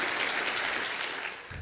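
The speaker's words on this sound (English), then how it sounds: "A warm round of applause." Warm audience applause greeting two guests on a podcast-style show, a steady dense patter of clapping that continues throughout and fades slightly at the end.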